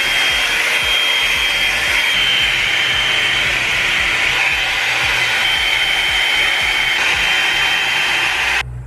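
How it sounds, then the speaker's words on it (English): A budget hair dryer roars loudly and continuously at close range while curly hair is blown straight, its steady whine cutting off abruptly at the end. "I definitely wasn't intending to blow dry my hair straight at all"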